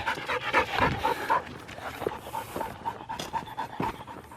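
A pet dog named Izzy pants rapidly and heavily as she runs up close, quick rhythmic breaths with small whimpering edges, loud and near with no talking over it.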